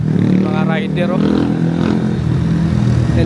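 Motorcycles ride along a city street, a continuous engine drone and passing roar heard from nearby while riders talk over it.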